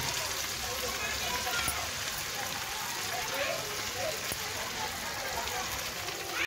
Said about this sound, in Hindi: अभी मैं यहाँ पर है ना मेरा चिकन फ्राई कर रही हूँ।